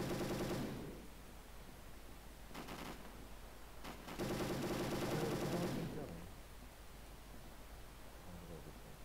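Sharp, rapid bursts of RPD light machine gun fire crackle in Call of Duty: Black Ops online free-for-all, a short opening volley, a couple of brief stabs, then a longer sustained burst before fading to low ambient noise.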